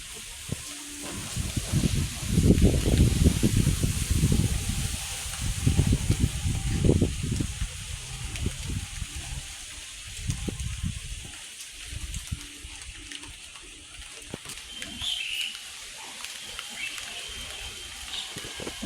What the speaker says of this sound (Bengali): দেখতে দেখতেই টুপটাপ বৃষ্টি শুরু হয়ে গেল